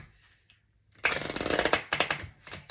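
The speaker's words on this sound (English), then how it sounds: "Let me shuffle them back here." A new deck of cards is shuffled up close, a rapid flurry of crisp riffling clicks after a near-silent start.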